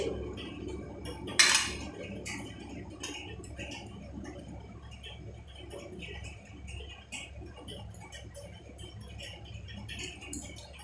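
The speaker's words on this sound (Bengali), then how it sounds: "এই ডালের মধ্যে আমি প্রথমে পেঁয়াজগুলোকে দিয়ে দিচ্ছি" Onions going into half-boiled lentils, with a loud utensil clink early on followed by scattered light taps and clicks of cutlery against a pot over a quiet room.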